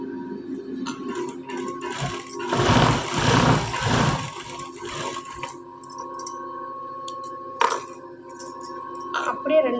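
A sewing machine runs briefly while stitching blouse fabric, a whirring burst lasting about two seconds, with someone speaking in Tamil around it.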